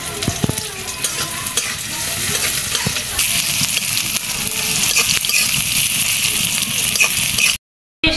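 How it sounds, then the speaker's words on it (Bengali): Onions fry vigorously in hot oil in a wok, a steady loud sizzle with scraping stir strokes throughout, cutting out briefly near the end. "পেঁয়াজটা লাল লাল করে ভাজা হয়ে গেছে"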